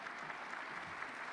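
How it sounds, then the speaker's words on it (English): A convention gala crowd at the Florida Democratic Party's state convention in Orlando gives steady, dense applause for a guest, a continuous wash of many hands clapping that fills the whole stretch with no break. "Could you all please give a round of applause for Charlie Rodriguez"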